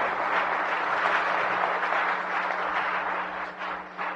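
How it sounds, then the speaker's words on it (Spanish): A seminar audience gives a sustained round of applause, a dense wash of clapping that stays loud throughout and thins slightly toward the end. "Denle un aplauso, por favor, a todos sus directos"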